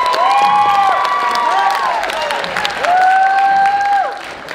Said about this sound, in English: can we give a round of applause for my mom